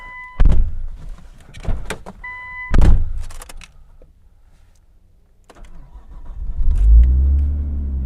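A Nissan Skyline R34 GTT being started: a few clicks and brief cranking bursts, a pause, then the engine catching and settling into a low, rumbling idle close by.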